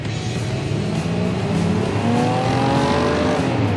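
A Cadillac Escalade with a 403-horsepower V8 accelerates hard off the line in a drag race, a loud, dense engine roar climbing steadily in pitch and staying close throughout.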